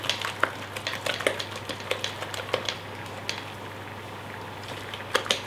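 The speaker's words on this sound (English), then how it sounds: "Mix this through, either with your spatula or your spoon" Thick, creamy sticky date pudding batter is mixed in a bowl with a spatula or spoon: soft irregular scraping and clacking strokes, close and fairly quiet, with a low background hum and no talking.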